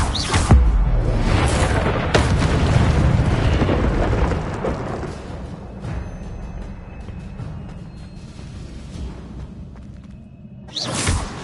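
The Incendio fire spell in Hogwarts Legacy on PlayStation 5, a loud whooshing burst of flame that roars and slowly fades into a crackling tail, then another whoosh at the end.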